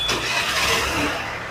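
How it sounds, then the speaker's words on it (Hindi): A Honda Activa scooter engine, just rebuilt, turns over and starts, producing a steady broadband mechanical drone that holds evenly at close range with no speech. "तो बाइक को स्टार्ट करते हैं दोस्तों,"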